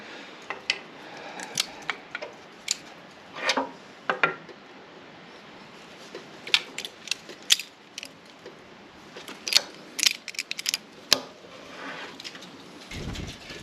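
Metal cotter pins being worked out of the shafts on a tow-bar trailer hitch, a series of sharp, close clicks and scrapes scattered in irregular bursts over a quiet background.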